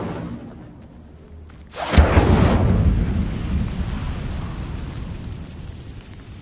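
An Incendio fire spell cast in Hogwarts Legacy bursts in about two seconds in as a loud, sudden whooshing blast, then trails into a long roaring rumble that slowly fades.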